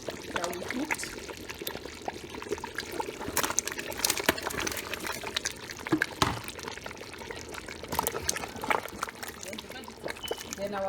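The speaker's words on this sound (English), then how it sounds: "So I'm going to add the meat that we cooked." Cooked meat is tipped into a pot of egusi melon soup with bitter leaf, giving wet sloshing, pouring and dribbling sounds at close range while someone talks over them.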